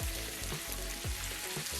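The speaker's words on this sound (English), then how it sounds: "And now I'm just basting the steak" A ribeye steak sizzles in a hot pan as herb garlic butter is spooned over it, a dense continuous crackle with soft rhythmic spoon scrapes and splashes, close and fairly quiet.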